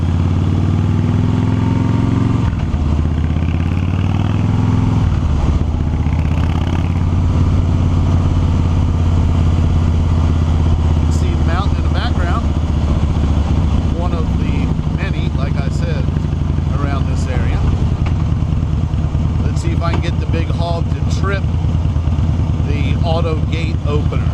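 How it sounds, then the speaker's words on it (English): A big motorcycle engine runs loud and close throughout, a deep steady rumble with heavy vibration, while someone talks over it for much of the time. "the big hog is all about big motor, big vibration, and that's what we like"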